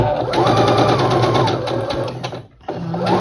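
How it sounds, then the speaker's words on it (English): A sewing machine stitches a quilt block for a block-of-the-month quilt, running in a loud, steady rapid whir that pauses briefly near the end and then starts again. "So let's start sewing."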